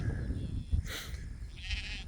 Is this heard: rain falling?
no